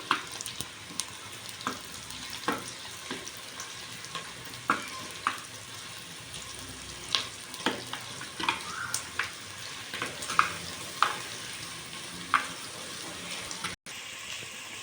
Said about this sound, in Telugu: అల్లం కూడా ఎర్రగా మగ్గనివ్వాలి